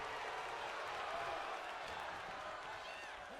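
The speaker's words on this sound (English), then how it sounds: "The crowd on their feet." A wrestling arena crowd at a tag team match cheers and applauds continuously, a dense, steady roar of clapping and voices filling the space without a break.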